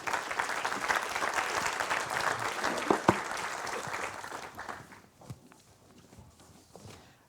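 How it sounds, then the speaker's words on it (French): An audience claps for the speakers of a biofuels round table at a national biomass conference, steady hall applause that thins out and fades to a few scattered claps near the end. "j'invite toute la salle à remercier par quelques applaudissements nos intervenants"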